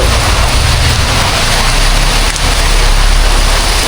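Steady heavy rain hisses loud and close, a dense unbroken wash of noise through the whole stretch beside a roadside sugarcane juice stall, with no voices.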